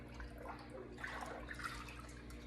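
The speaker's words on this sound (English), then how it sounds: "we're going to let this water out" Cloudy starch water being drained off washed flour during seitan making: faint, continuous trickling and dripping with small irregular splashes, quiet and close.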